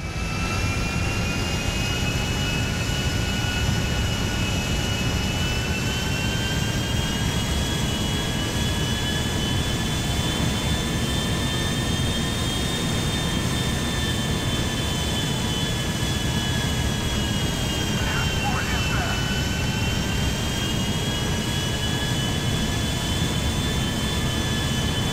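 Jet airplane engine in the GTA 5 video game, a steady loud roar with a high whine holding throughout, alone with no talk.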